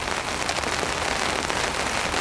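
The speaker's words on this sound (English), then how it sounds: "as you can no doubt hear and probably see from the water behind me, it's raining" Heavy rain pours steadily onto a lake during a downpour at a fishing spot, a dense, continuous hiss of drops striking the water surface, loud and close with no voices.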